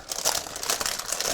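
Brief, close crinkling and crackling of greaseproof paper being pulled loose from a light, a quick flurry of sharp rustles with no talk.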